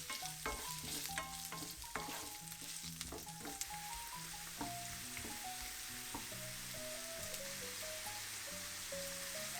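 Food sizzles and crackles steadily in a frying pan while sausage for spaghetti cooks, with occasional stirring scrapes and clinks and no talking.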